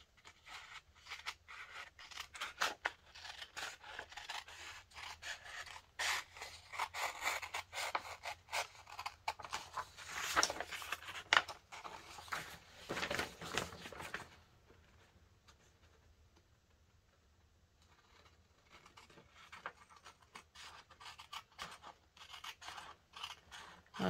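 Scissors snip through paper while a pocket is cut out for a junk journal, giving close, quiet rapid clipping and rustling that pauses before faint scraping resumes, with no talk.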